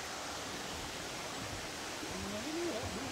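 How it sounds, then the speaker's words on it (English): Steady, even rushing of a waterfall in Reelig Glen forest fills the whole clip, a broad constant roar with a faint bird call near the end. "There's the waterfall."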